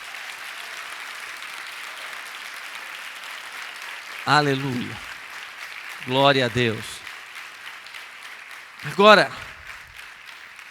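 A church congregation applauding in a continuous, even wash of clapping, while a voice speaks over it in three short bursts.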